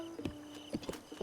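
Hooves of a mare clip-clop in Zelda: Breath of the Wild, a few uneven steady thuds with a faint tonal hum behind them, no talk.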